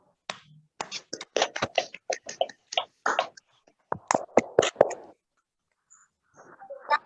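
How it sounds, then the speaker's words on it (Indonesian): Applause for a group of students in a classroom session, heard as scattered, dry claps in short uneven runs with gaps between them, then a faint patter near the end. "tepuk tangan untuk kelompok"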